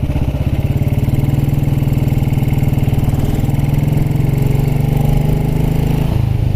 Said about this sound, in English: your engine's still turning